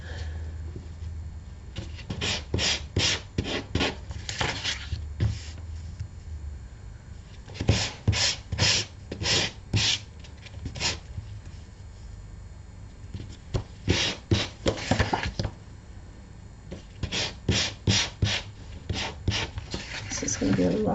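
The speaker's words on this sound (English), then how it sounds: "It's going to be a lot more difficult to get in here to sand." Hand sanding of wood, heard as bursts of short, rhythmic back-and-forth rasping strokes separated by pauses, close and fairly soft.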